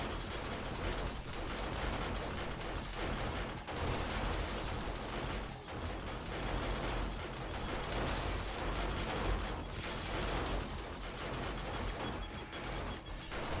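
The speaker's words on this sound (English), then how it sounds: "Definitely want to keep these blade traps running." Blade traps spinning in the video game 7 Days to Die, Alpha 20: a dense, continuous metallic whirring and clattering that runs without pause and stays fairly loud throughout.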